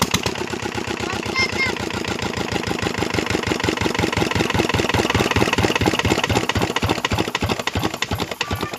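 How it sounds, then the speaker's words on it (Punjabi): An engine chugs steadily at idle, a rapid, even knocking rhythm that stays loud and close throughout. "ਆਪਾਂ ਦੇਖਿਆ ਇੰਜਨ ਚਲਾ ਕੇ ਵੀ ਇਹ ਤਾਂ ਸਟਾਰਟ ਹੋ ਗਿਆ"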